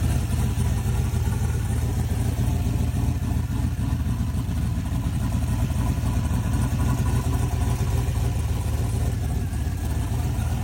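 A car engine idles through a small muffler, a steady loud low rumble with a constant throb, close and unchanging, no voices.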